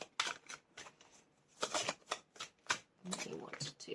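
A deck of tarot cards is shuffled up close in quick bursts of riffling and flicking, with short pauses between handfuls.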